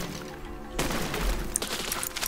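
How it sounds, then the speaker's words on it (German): Catapult blowing apart in the physics building game Besiege, a sudden loud crash-like burst of breaking and bangs that cuts in partway through and keeps rattling with scattered debris impacts. "Wieso ist es jetzt wieder explodiert?"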